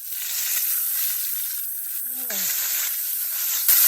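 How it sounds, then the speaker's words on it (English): Garlic sizzling in hot oil on medium heat for fried crab, a loud, close, steady hiss that dips briefly midway, with a short voice-like tone partway through. "Now I'm going to add the garlic."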